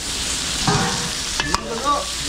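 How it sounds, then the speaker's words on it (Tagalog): Garlic and onion fry in a pan for a home catering spread, a steady broadband sizzle with a couple of sharp utensil scrapes and clinks partway through, close and fairly loud with no talking. "ayan natin maluto yung bawang sibuyas"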